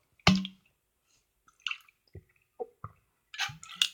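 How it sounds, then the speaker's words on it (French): A person drinking water, a handful of separate wet gulps and swallows up close, spaced apart by silence, with a sharper sound at the start and a quick pair near the end. "j'en profite pour boire de l'eau"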